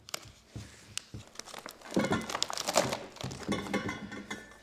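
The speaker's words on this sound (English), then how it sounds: "So we'll unwrap it all and have a look." Crinkling and tearing of packaging around a Land Rover Defender exhaust downpipe being unwrapped, close crackling plastic and paper rustles in irregular bursts, with no talk.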